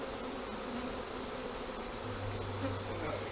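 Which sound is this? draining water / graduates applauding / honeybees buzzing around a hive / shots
honeybees buzzing around a hive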